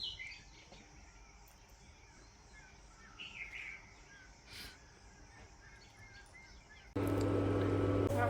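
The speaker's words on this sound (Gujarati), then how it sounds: "ને પંખી કિલોર કરે અટણમાં" Birds chirp faintly in a quiet home courtyard in the morning, with a few scattered calls and a crow's caw, before a sudden loud rushing noise takes over near the end.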